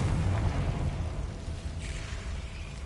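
A Confringo spell explodes in Hogwarts Legacy with a heavy, rumbling blast that is loudest at the start and slowly decays into a low, lingering roar.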